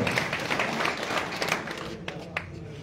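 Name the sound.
crowd applause welcoming minister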